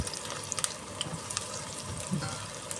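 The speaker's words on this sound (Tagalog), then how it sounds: "haluin lang natin hanggang mag golden brown po yan guys" Onion, garlic, ginger and anise fry for siopao filling, a soft, fairly faint sizzle with scattered light clicks and scrapes from a stirring utensil against the pan.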